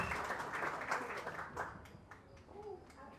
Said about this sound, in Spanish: Fuerte aplauso para ella, los que puedan aplaudir.